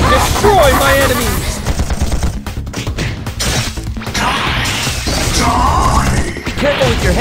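Bullets fire in the Chaos Mecha video game as rapid bursts of gunfire and impacts crackle loudly and repeatedly, with voices calling out over the shooting.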